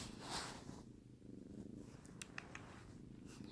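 A friendly kitten purrs steadily and softly up close, a low continuous rumbling rhythm with faint background noise and no talking.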